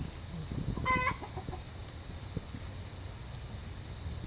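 Soft, scattered clucking of hens being rounded up into their coop at night by a herding dog, with one brief louder squawk near the start, over faint background hiss.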